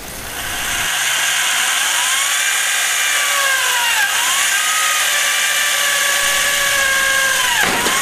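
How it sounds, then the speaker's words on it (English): A power drill whines continuously through sheet metal, its pitch wavering and dipping as pressure changes, loud and close with no talking. "Now I can drill without bending these edges."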